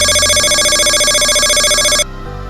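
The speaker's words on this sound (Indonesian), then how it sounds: "sepertinya dia menerima telepon dari Linda." A telephone rings with a loud, bright electronic tone that repeats in a steady warbling pulse for about two seconds, then cuts off abruptly, leaving a low background hum.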